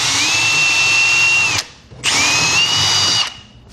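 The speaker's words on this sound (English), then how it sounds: "So using our hole saw bit," Power drill driving a hole saw bit to enlarge holes in drywall, two loud sustained whirring runs with a grinding edge, separated by a brief pause.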